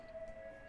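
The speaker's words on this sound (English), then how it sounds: "I'm sorry for the sirens in the background." A faint, steady siren tone drones in the background, a single sustained pitch under soft room noise.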